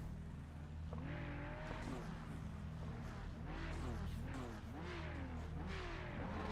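Race car engine in the iRacing sim, droning steadily with rising and falling revs and a turbo whoosh, loud and continuous throughout, with a brief murmur of voice in the background.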